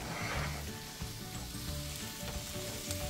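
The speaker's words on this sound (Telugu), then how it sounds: "వెల్లుల్లిపాయ కూడా బాగా వేగిపోయింది" Garlic sizzles steadily in a hot pan with oil, a continuous close frying hiss that holds at an even level from start to finish, with no voices over it.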